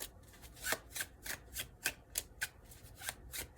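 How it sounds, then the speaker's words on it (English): Tarot cards are shuffled by hand in a quick series of about a dozen crisp riffling snaps and slaps, close and fairly quiet, with no talking. "I will shuffle to try to get a card to pop"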